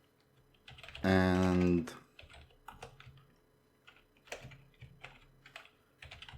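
Quick clicks of a computer keyboard being typed on at close range, coming in short scattered bursts after a brief spoken word.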